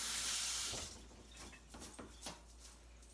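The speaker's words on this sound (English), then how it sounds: "So I'm going to throw this away and wash my hands." Water from a kitchen tap splashes into the sink for a moment and then cuts off, followed by quiet clicks and handling sounds as hands are washed.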